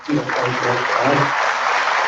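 An audience at a product training seminar breaks into a round of applause, a steady broadband patter of clapping with a voice speaking over its opening moments.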